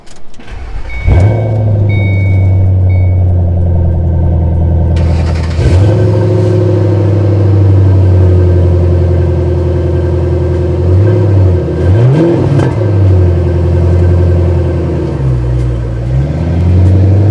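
A 2007 Ford Mustang Shelby GT V8 cranks and fires up with a sharp roar, then settles into a loud, deep idle broken by several strong revs that rise and fall close by.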